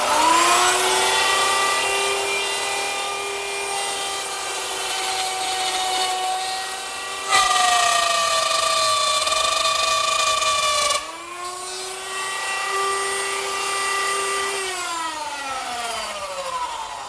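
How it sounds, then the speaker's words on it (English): A table-mounted router plunges into a wooden table leg to cut a mortise against a stop block, its high motor whine steady and strongly tonal, dipping in pitch under load and shifting twice as cuts begin and end. "I use the same router setup with a stop block in a new position and a reference line to plunge down into the router bit"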